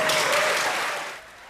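Applause erupting from an audience in a played-back recording, a dense wash of clapping that starts loud and then fades noticeably toward the end.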